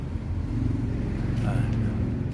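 A running Toyota 1GD diesel engine with a worn, noisy bearing gives a steady, close, droning hum with a rough low rumble throughout, with a voice faintly underneath.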